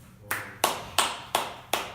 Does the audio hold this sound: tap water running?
no